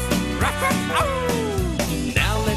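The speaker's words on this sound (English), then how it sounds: "Here comes Wagsy, listen to him bark." A dog barks and yips amid a bouncy children's song: several short yelps and a falling, whining howl sit prominently in the music mix.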